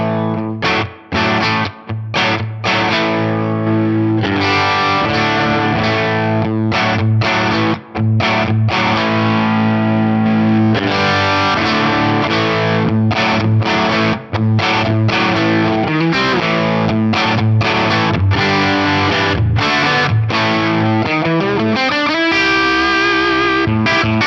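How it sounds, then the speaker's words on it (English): An electric guitar on a Strat bridge pickup, run through two compressors into an amp, plays sustained distorted chords and riffs, loud and continuous with brief choppy stops, no talking over it. "let's hear this on a Strat bridge pickup. I'll bring in the first comp and then the second comp"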